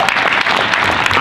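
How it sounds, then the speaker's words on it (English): An audience at a school meeting breaks into loud, close applause, a thick steady patter of many hands with a few sharper individual claps standing out, and no talking. "So maybe just a round of applause for all of you."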